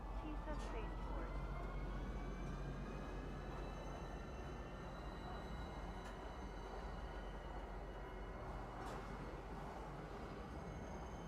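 In Star Citizen, a train pulls in to Tisa Spaceport: a steady low rumble of carriages and wheels with faint high squeals, continuous and even, with a voice talking over it.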